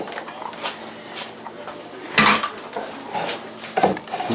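A plastic blender bowl handled on a kitchen counter while making a marinade for short ribs, a few knocks and clacks at close range with one louder clatter midway.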